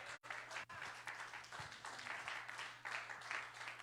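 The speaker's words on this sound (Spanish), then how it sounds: "¿Cuánto le dan un aplauso al Señor?" A church congregation applauds at a sermon's call for praise, a steady wash of many hands clapping throughout, fairly quiet, with a brief gap near the start and a low hum underneath.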